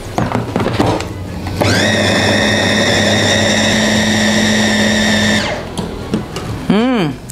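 An electric food chopper whirs steadily for several seconds while mixing meatball dough for bakso, starting with a sharp spin-up and stopping abruptly, with clunks of handling before and after.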